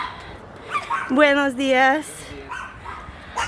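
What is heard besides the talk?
puppy barking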